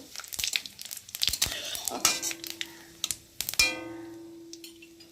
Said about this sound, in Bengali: এখন আমি ফোড়ন দেব তো প্রথমে দেবো শুকনো লঙ্কা তারপর দেবো তেজপাতা জিরে ফোড়ন দিয়ে ফোড়নটাকে একটু ভালো করে ভেজে নেব